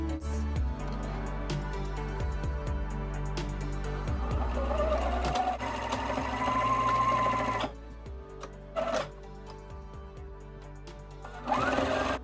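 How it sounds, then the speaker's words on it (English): A sewing machine stitches a cushion cover along a pinned line in fast, steady runs, pausing briefly before starting up again in short bursts, close and fairly loud. "Next step, which is to sew along the line of your pins."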